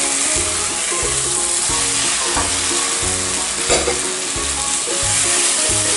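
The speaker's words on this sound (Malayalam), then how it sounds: "നന്നായിട്ട് മിക്സ് ആക്കിയിട്ട് നമ്മൾ ഫ്രൈ ചെയ്ത് വെച്ച കൈപ്പക്ക ഇട്ട് കൊടുക്കാം." Bitter gourd being stirred and fried with masala in a pan, giving a steady loud sizzle with regular scraping strokes of the spoon, close and continuous, with no talking.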